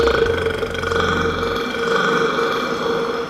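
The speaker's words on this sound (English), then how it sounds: "Burping." A man lets out one long, low, drawn-out burp, close and loud, that fades after about a second and a half.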